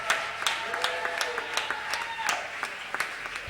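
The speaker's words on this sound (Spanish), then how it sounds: "Un aplauso para Jacinto, para a súa moza e para todos eles" Audience applause at a circus festival show in a hall, scattered individual claps standing out sharply over a softer bed of clapping, with a voice faintly audible beneath.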